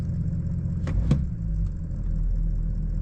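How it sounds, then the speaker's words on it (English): Steady low engine rumble from a nearby truck with a tuned 6.0 Powerstroke diesel floored at full throttle, with a couple of brief clicks, holding a constant drone rather than climbing in pitch. "what I'll do is I'm gonna floor it to the ground and see how high the RPM goes"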